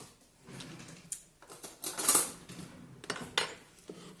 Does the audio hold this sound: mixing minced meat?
yes